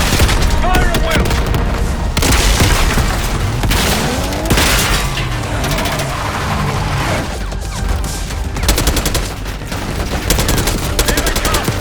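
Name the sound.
gunfire in the video game Call of Duty: Black Ops 6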